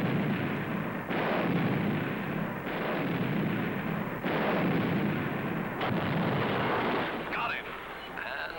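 Rapid, continuous naval artillery fire comes as a series of heavy, booming rumbles, roughly one every one to two seconds, loud and dense with overlapping blasts.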